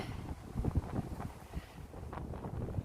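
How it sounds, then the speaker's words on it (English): Strong, cold wind gusts across the microphone on an open ridge walk by a barrow, giving low irregular buffeting rumbles that rise and fall, quiet overall. "It's very, very blowy and cold."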